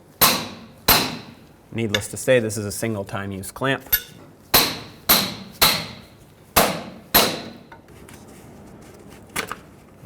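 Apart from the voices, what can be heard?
hammer knocking off steel clamp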